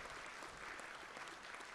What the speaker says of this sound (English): Can we have a round of applause for everyone who put in some hard work and effort this weekend?